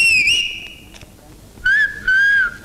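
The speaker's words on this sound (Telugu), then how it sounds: "ఇది మామూలు విజిల్ కాదు పాప, పోలీసు విజిల్." A police whistle blown in two sharp, loud, close blasts, the first with a wavering start, the second longer and steady, separated by a brief quiet gap.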